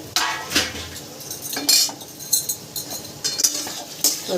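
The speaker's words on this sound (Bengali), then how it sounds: "এবার ঢাকনাটা খুলে দেখি বন্ধুরা যে কতটা হয়েছে" A metal lid lifts off a pot of bottle gourd cooking in milk, with a series of sharp clinks and clatters of metal cookware spaced through a quiet kitchen, no talk.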